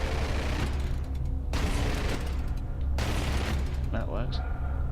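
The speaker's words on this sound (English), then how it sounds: "That's the rotary cannon." Rotary cannon firing from the Avenger ship in the Star Citizen game, rapid gunfire in three sustained bursts with short gaps, loud and close over a constant engine rumble.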